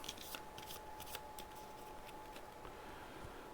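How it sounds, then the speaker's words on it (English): Cards from the Alien Fate of the Nostromo board game being shuffled on a tabletop, with a few quick, faint riffling flicks near the start that soon settle into quiet. "Shuffle that card back into the deck."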